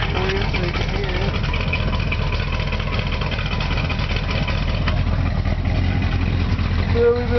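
A car engine idles steadily right after a carburetor rebuild, a low continuous rumble held close and fairly loud throughout with no revving, while a voice speaks faintly over it.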